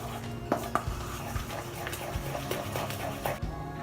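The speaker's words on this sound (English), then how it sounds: "We're gonna mix them well." Cheesecake mixture with icing sugar being stirred in a bowl for a no-bake mango cheesecake: repeated close clinks and scrapes of utensil against the bowl in an uneven rhythm, with no talk.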